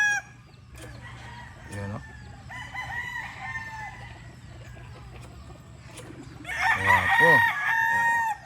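A Raptor Sweater gamefowl rooster crows several times at close range, each long call rising and falling, the last and loudest near the end, while someone talks over and between the crows.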